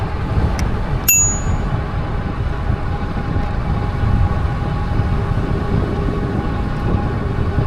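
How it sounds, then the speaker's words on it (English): An e-bike's bicycle bell rings twice, a short ding then a brighter ringing chime, loud and close over steady wind and riding noise on a river trail in Sacramento. "I like to give a quick bell."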